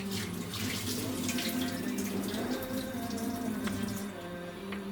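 Clean water pours steadily from a tap into a vessel for washing belila wheat, a close, full splashing rush that continues throughout and eases slightly at the end, with no talking.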